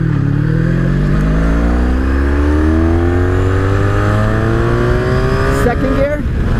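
A 1983 Honda Sabre VF750S motorcycle with a V4 engine accelerates hard, its loud, close engine note climbing steadily in pitch under strong wind rush.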